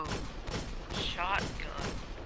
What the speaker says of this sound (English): You keep using that fucking shotgun.